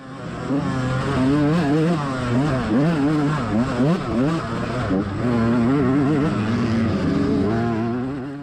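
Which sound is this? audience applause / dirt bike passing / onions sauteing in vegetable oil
dirt bike passing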